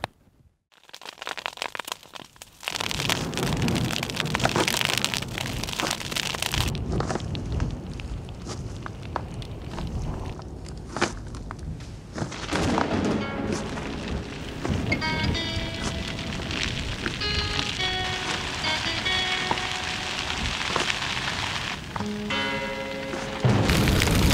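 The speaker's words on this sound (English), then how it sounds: "Fire in the long grass." Fire sweeping through long grass in Tanzania gives a steady, dense roar and crackle that builds after a quieter start and carries on loudly, with no talking.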